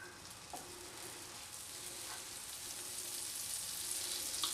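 Butter, about one and a half tablespoons shaved in, melts in a preheated pan over medium-high heat, giving a soft, steady, faint sizzling hiss that slowly grows a little louder, with no talking.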